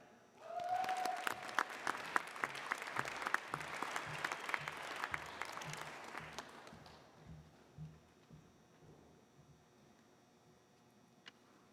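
Soft, distant applause from a graduation recognition ceremony audience for award winners, with many hands clapping for about seven seconds before the sound thins into scattered claps and fades to quiet room tone.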